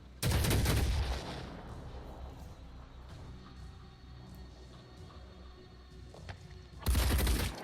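Enemy gunfire in the tactical game Phoenix Point: two loud, dense bursts of shots, one at the start and another near the end, with a quieter stretch of low rumbling ambience between them.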